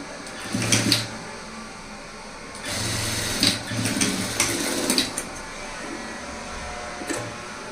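A sewing machine stitches a blouse in short bursts, its close mechanical rattling hum starting and stopping several times with quiet gaps between runs.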